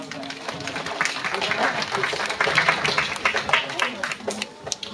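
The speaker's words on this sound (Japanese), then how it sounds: "もう一度拍手お願いします。" Audience applause after a live performance, a dense, steady crackle of many hands clapping close by that swells slightly midway and runs throughout, with a few louder claps near the end.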